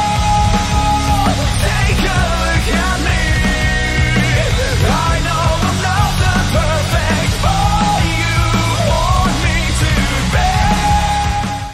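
A track from a video game soundtrack plays as dense, loud, continuous music with a shifting melody over steady low backing, with no talk over it.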